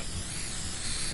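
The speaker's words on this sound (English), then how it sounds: "use of infinite spray paint ever" Steady broadband hiss of a spray paint can held down continuously in the video game Fortnite, loud and close, running without a break for about a second with no talk over it.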